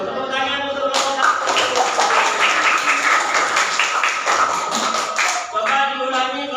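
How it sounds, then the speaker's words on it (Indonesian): Group of pupils clapping hands together in a classroom, a dense burst of many claps starting abruptly and sustained for several seconds before fading, with voices chanting around it. "Ya, tepuk tangan untuk Allah."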